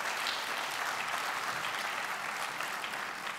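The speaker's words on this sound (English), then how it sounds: "I think that deserves an applause." An audience at a science awards ceremony applauds, dense, even clapping from a crowd that fills the room steadily from start to finish.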